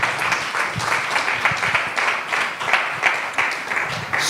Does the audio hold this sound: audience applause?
yes